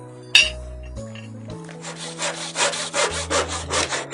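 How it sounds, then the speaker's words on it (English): A hand saw cuts through wood in a run of even back-and-forth strokes, each a rasping scrape, close and loud, after a few soft knocks and clinks as the saw is set against the board. "a saw"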